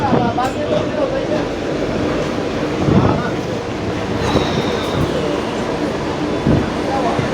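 Inside a moving Mumbai local train, with a steady loud rumble and rattle of the carriage, occasional clacks and a faint squeal, while people talk nearby.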